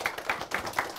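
Audience applause for a youth mentoring program's guest mentor at the close of a broadcast session, heard as a steady, rhythmic run of claps at a moderate level with no talking.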